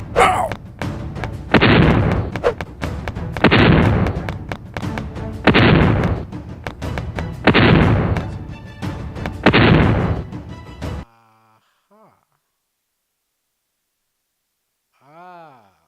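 Repeated explosion effects play in a mobile action game under development. Several heavy booming blasts come at roughly two-second intervals over constant noise, loud and close. The sound then cuts to near silence with a few faint chirps.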